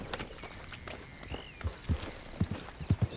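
Horse hooves clip-clopping in Red Dead Redemption 2, a walking horse with irregular hoof strikes that grow more distinct and louder toward the end over a low outdoor ambience.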